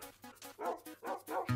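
Dogs in the video game Minecraft bark in a quick run of about six sharp, evenly spaced yips and barks, close and clear, with nothing else behind them.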